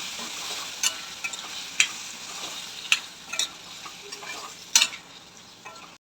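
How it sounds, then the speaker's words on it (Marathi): Soaked chana dal is stirred in a hot pan for tinda sabzi, with a steady sizzle under irregular sharp scraping knocks of the spoon against the pan, close and without talk. "आता हे व्यवस्थित मिक्स करून घेऊया"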